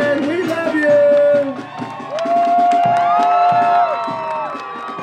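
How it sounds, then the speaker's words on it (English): Parade crowd at Pride San Antonio 2014 cheering, whooping and shouting for the Pride of San Antonio show band, loud and close, with voices rising in bursts and some tonal calls over the clamor. "Living for the applause, ladies and gentlemen"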